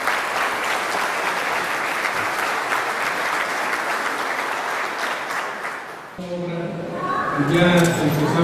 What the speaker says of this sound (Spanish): Recibamos con un fuerte aplauso al maestro Mauricio Valdés Rodríguez.